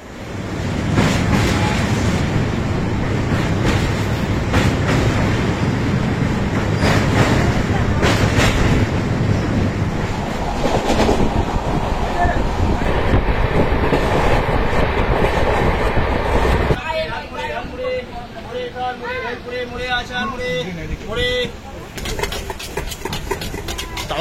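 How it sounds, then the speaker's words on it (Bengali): The Dhauli Express pulls out of a station with a loud, continuous rumble and rhythmic clatter of wheels on track. The sound shifts partway through to a rattling, wind-buffeted interior noise, with no talk. "এই হচ্ছে দেখতে পাচ্ছ স্টেশন থেকে ট্রেন কিন্তু এখন সবে মাত্র ছাড়ছে।"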